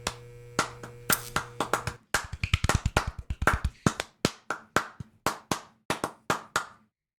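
A single person clapping their hands in a run of sharp, separate claps with short pauses between bursts, some quick and some evenly spaced, close and clear with no talking.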